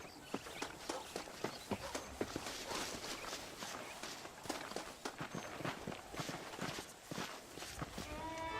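Horse hooves clip-clopping in the video game Red Dead Redemption, a steady rhythmic run of close hoof strikes over a rustling background, without talk.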